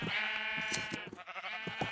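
Several Minecraft sheep on Wii U give loud, close, wavering bleats in quick succession, overlapping into a steady chorus of nasal cries with no voices over them.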